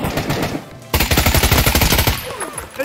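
An AK rifle in the video game Pavlov fires a rapid automatic burst of loud, closely spaced shots in the middle, with quieter game sounds before and after.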